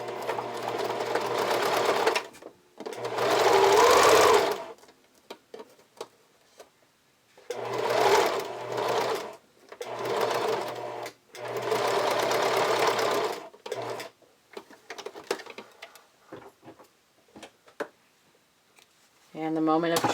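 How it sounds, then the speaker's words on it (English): A sewing machine stitches a seam on kids' underwear, running in several loud bursts of a few seconds each with brief pauses between, ending with scattered softer handling noises. "I always pretty much use my sewing machine to sew my seam first"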